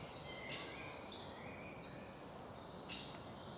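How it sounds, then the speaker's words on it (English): Birds sing on a countryside walk along a winding path at the edge of an escarpment, with thin high chirps and whistles coming in scattered bursts over faint steady background hiss, somewhat distant and soft, with no voices. "Now you've got a bit more bird song."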